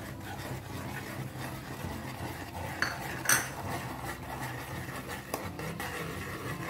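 Metal spoon scraping and clinking against a pan while custard mixture is stirred on a stove over medium flame, a steady soft scraping with one sharper clank midway, no talk.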